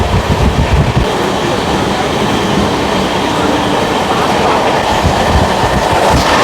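A Balurghat–SMVT Bengaluru Express on its first run rolls steadily along the rails, a loud continuous rumble with faint rhythmic clatter of wagons and no voices.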